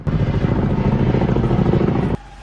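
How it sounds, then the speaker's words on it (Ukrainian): Firefighting helicopter at a large blaze in Kyiv, its rotor thumping loud and steady as a close chopping roar for about two seconds before cutting off abruptly. "для гасіння пожежі залучають не лише ДСНСників, а й пожежний вертоліт"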